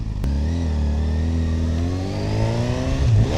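Honda CB1000 Hornet SP naked motorcycle engine accelerating hard through the gears, a loud, close, rising growl that briefly breaks at a shift and then climbs again.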